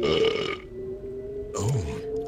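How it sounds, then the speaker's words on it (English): A character in an adventure video game lets out a loud, drawn-out belch close up, with a deep rumbling croak that swells and fades. "Funny thing, I was never happy with the way the final actor burped."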